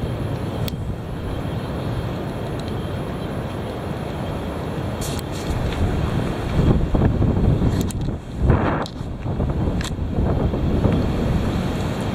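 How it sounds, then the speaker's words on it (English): Heavy wind blowing hard and steadily, a loud continuous roar buffeting the microphone, with stronger gusts surging partway through. "Here it is. The heavy wind."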